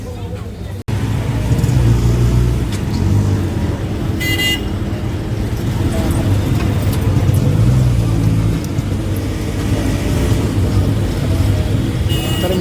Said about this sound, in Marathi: तर मित्रांनो आपण रिक्षामध्ये चाललो आहे.